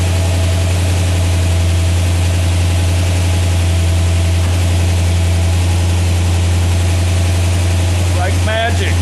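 A 1976 Corvette restomod engine idles steadily and loudly nearby, a constant low drone throughout, with a brief mechanical whir near the end as the headlights operate.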